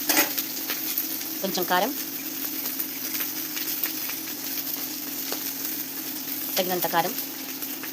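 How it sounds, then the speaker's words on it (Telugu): Ginger garlic paste fries in a hot pan, giving a steady sizzle broken by two short bursts of stirring and scraping, while someone speaks over the cooking. "అల్లం వెల్లుల్లి పేస్ట్ కొద్దిగా వేగిన తర్వాత అందులోకి"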